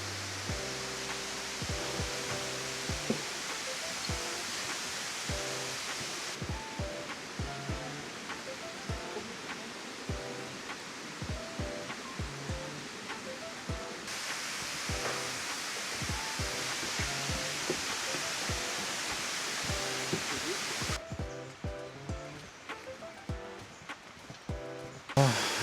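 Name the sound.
waterfall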